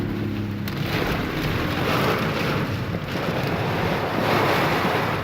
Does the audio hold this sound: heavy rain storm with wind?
yes